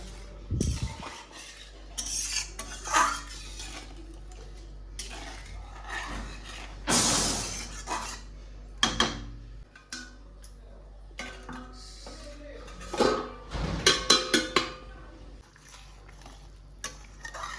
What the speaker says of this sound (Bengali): এগুলো হয়ে গেছে, এখন বড়াগুলো দিয়ে দিই